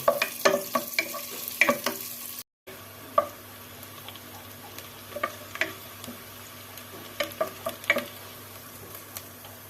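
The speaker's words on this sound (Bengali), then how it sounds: "এখানে এখন পেঁয়াজ মরিচ রসুন দিলাম, একটু ভেজে নেব।" Onion, chili and garlic frying in oil in a pan, a quiet crackle under repeated spatula clicks and scrapes against the pan, interrupted by a short silent gap, with no speech.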